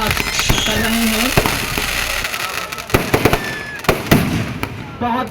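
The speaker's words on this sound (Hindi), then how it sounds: "जबरदस्त तरीके से आतिशबाजी का प्रदर्शन रजा अब्बास कर रहे हैं।" Fireworks display at the Dewa Sharif Mela, a dense run of cracking bursts and sharp pops at close range, with sputtering crackle between the louder blasts and crowd voices underneath.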